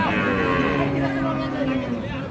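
Friesian dairy cows moo at a crowded rural cattle market in Dinajpur, Bangladesh, with a long, loud, low moo ringing over the busy, noisy background of the market.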